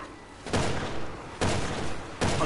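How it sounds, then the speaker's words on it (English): Three heavy, booming gunshots in Resident Evil 6, evenly spaced about a second apart, loud and close with broad noisy tails between blasts. "I'm shooting him."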